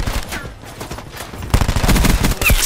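Rapid gunfire rattles in a Black Ops 4 Gun Game match, dense bursts of automatic shots that thin out briefly and then return harder and closer in a sustained, loud volley.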